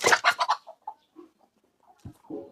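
Desi hens kept for laying cluck nearby in a quick burst of rapid clucks, then quieter scattered clucks with pauses, and a final short flurry.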